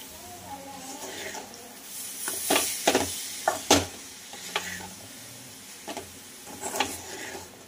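Ukalpendi, a Vidarbha-style dish, is stirred and mixed in a pan after a splash of water, giving a soft sizzle under repeated scraping strokes that cluster in the middle and return toward the end, close and moderately loud.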